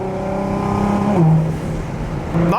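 A widebody Nissan GT-R engine downshifts in cold weather, its droning tone dropping and then blipping sharply upward, close and loud, before settling back with a brief rev at the end.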